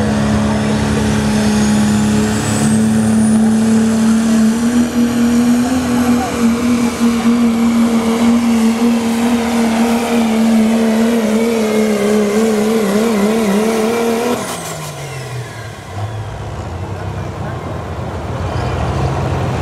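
A 3.0-class diesel pickup truck roars loudly at a truck pull in Hillsboro, Wisconsin, its turbocharged engine holding a steady high drone that climbs gradually, then abruptly drops and winds down near the end.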